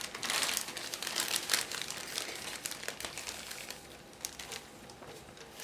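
Crinkling and rustling of a plastic bag being opened to get at the parts of a 1/72 Special Hobby Avia C.2 model kit, continuous close crackle that fades toward the end.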